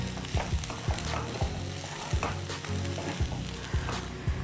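A spoon stirs sabudana khichdi in a sizzling pan, with a steady fry hiss and rhythmic scrapes about twice a second, close and continuous.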